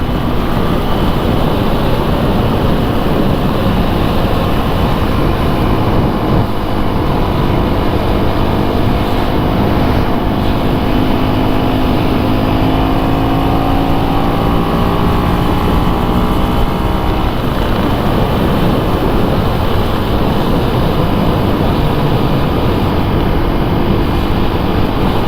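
A 2024 KTM 350 EXC-F dirt bike cruises at half throttle around 65, its steady engine drone mostly buried under constant loud wind roar, with a faint rising and falling engine tone in the middle.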